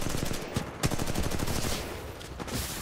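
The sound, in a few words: gunfire from a weapon in video game Titanfall 2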